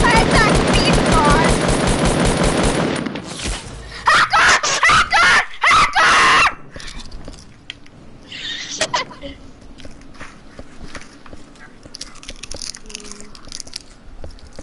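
Video game gunfire, a few seconds of loud, rapid bursts following a loud shouting voice, then fading into scattered softer clatter and background noise.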